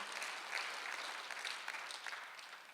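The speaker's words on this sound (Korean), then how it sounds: "나도 동일한 파급 효과를 갖고 있다고 믿는 사람만 박수하세요" A church congregation claps together during a Sunday worship sermon, a faint but continuous, even roll of applause filling the whole stretch with no talking over it.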